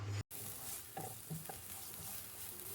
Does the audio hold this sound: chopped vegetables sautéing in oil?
yes